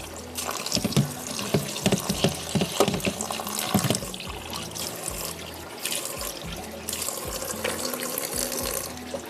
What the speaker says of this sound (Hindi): इसके ऊपर मैंने पानी खोल दिया है ठंडा।